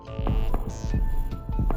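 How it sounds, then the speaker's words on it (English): Heartbeat in the Persona 2: Eternal Punishment video game: a steady, low double-thump pulse repeating about every half second over a humming synth drone, close and even, with no talking. "That's Marlin's heartbeat."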